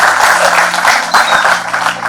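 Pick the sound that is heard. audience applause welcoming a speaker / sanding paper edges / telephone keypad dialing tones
audience applause welcoming a speaker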